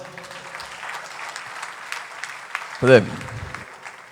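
Audience applause at an international management conference technical session rises briefly as a steady patter under a speaking voice, with a voice continuing over the clapping.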